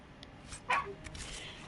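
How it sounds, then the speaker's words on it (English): A dog barks once in Dragon Age Inquisition, a single short bark in the game's soft ambient background, with faint other game sounds around it. "Why are you barking?"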